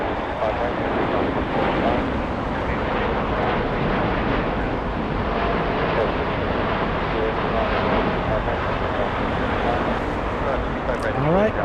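A Delta Airbus A350 airliner at LAX bound for Atlanta gives off a steady, broad engine roar and rush that holds constant throughout, with a wind-buffeted outdoor background.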